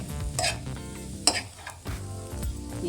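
Boiled potato filling with chopped coriander leaves is stirred and mixed in a bowl for Karnataka-style aloo bonda, a close, steady scraping and squelching run with a couple of sharper clicks of the spoon and no talking.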